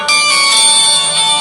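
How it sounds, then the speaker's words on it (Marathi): A mobile phone rings loudly and continuously with an automated call from an automatic farm pump starter, a bright electronic ringtone heard up close and alone. "आता या मोबाईलवरती थोड्या वेळात फोन येणार"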